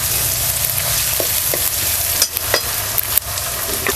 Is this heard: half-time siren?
no